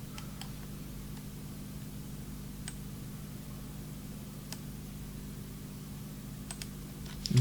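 Faint computer keyboard key presses: a few sparse, soft clicks scattered over a quiet background hiss, with no talking.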